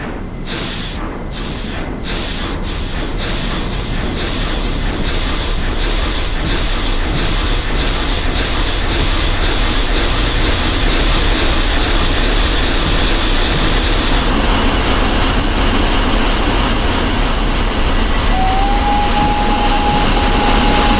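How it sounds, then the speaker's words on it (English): Porter steam locomotive from the Train Simulator Clear Creek 'Log & Lumber' expansion chuffing in a steady, loud rhythm over a continuous rumbling hiss, with a whistle-like tone near the end. "The chuffing sounds, and smoke particle effects for that matter, the Porter engines also leave something to be desired."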